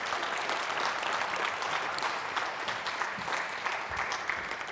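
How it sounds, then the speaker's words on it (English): A room full of people applauding at an Adobe Education Summit showcase, steady and sustained clapping that stays even throughout. "please give them all just another big round of applause"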